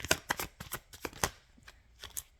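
Tarot cards being shuffled by hand, a run of quick papery riffles and slaps in uneven bursts, close and fairly quiet, with no talking.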